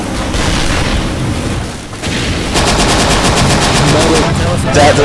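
Gunfire and a grenade explosion in the video game Dino D-Day, a loud, dense barrage of booms and rattling automatic fire that drops briefly and then returns as rapid, evenly spaced shots.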